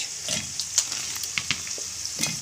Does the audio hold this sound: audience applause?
no